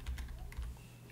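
A URL being typed on a computer keyboard, several quick key taps in an uneven burst, close and fairly quiet with no talking.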